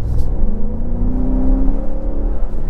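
A Ford Raptor truck engine revs loudly from close by, the low growl rising and falling in pitch as it accelerates, with a steady rumble underneath and no voices.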